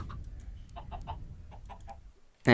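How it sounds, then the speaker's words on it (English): Scattered soft clucks from several chickens in a Minecraft-style video game over a low rumbling background, ending in a sudden loud burst of noise. "we've been breeding the chickens right here"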